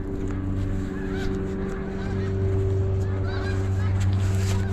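A large flock of snow geese honks overhead, with many overlapping calls repeating constantly, fairly distant and layered over a steady low hum.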